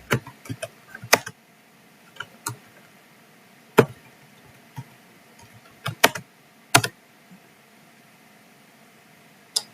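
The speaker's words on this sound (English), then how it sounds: "Let's just type in gallery" Computer keyboard keys tapped in scattered, irregular bursts of crisp clicks, close and fairly quiet, with pauses between strokes and no talking.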